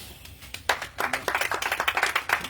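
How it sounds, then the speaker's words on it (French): A church congregation claps and applauds in praise of Jesus Christ, a dense rhythmic burst of many hands building quickly and continuing steadily at close range. "Acclamons le Seigneur Jésus-Christ."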